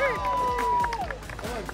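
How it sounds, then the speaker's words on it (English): Audience at a school parents' reunion clapping together, dense steady applause with cheering and crowd babble, a voice calling over it and sliding whistle-like tones above. "Give them a big round of applause"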